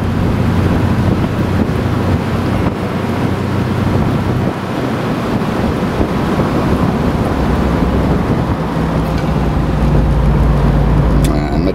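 A 1979 MGB Roadster sports car driving with the top down, steady engine drone and heavy wind buffeting filling the whole stretch without pause.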